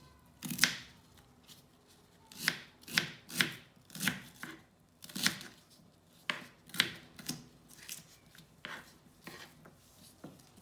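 A knife chops okra on a board in separate close, crisp strokes, sometimes quick pairs and sometimes spaced apart, with quiet gaps in between.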